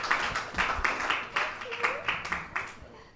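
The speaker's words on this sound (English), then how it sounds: "Please, can we have a round of applause?" Audience at a book launch at the Sharjah International Book Fair clapping together, steady fairly quick claps at moderate loudness from a modest crowd, with some murmured voices mixed in.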